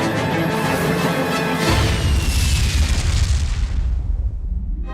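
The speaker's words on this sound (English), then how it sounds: "Those fireworks should be going off any minute now." Cartoon fireworks from a Tom and Jerry short go off in a loud, sustained booming roar of rumbling bursts that slowly tapers off.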